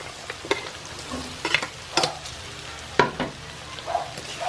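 Sliced tofu frying in a pan while being stirred for tofu sisig, intermittent scraping strokes and spatters over a soft sizzle, close and fairly loud, no speech.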